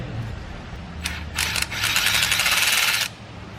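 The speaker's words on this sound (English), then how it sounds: "you want to be really gentle with this ratchet." Small ratchet driving T25 screws, a near, rapid run of fine clicking that starts in short bursts and then ratchets steadily for about a second and a half.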